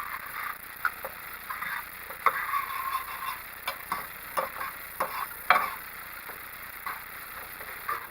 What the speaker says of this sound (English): what we want to do is bring our marinade to a boil